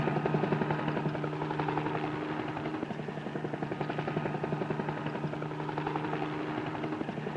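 A helicopter flies above a town, its rotor chop pulsing in a steady, continuous beat with a constant engine drone, moderately loud and alone.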